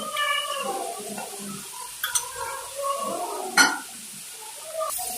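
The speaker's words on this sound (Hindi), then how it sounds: "अब इसमें पास्ता शामिल करेंगे और इसको अच्छी तरह मिक्स कर देंगे" Pasta is stirred together with pasta sauce in a pan, giving soft scraping and clinking strokes of a utensil against metal with a few sharper knocks, close and fairly quiet.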